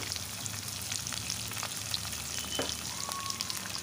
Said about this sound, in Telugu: వీటన్నిటిని మంచిగా అయితే ఆయిల్లో ఫ్రై చేసుకోవాలి.